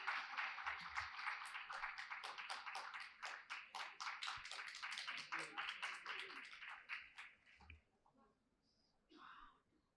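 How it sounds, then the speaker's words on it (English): Continued audience applause at a book launch, a dense, steady patter of many hands clapping for several seconds before tapering off, followed by a brief faint murmur. "Let's keep the applause going, ladies and gentlemen."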